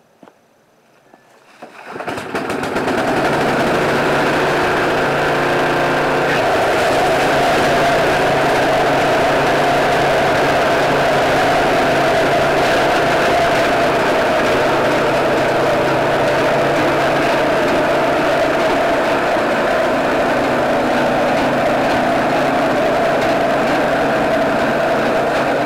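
A snowblower engine starts and runs steadily and loud with its auger spinning, a continuous mechanical drone with no talk over it.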